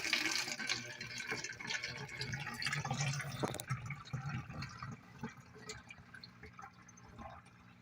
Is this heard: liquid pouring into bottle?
yes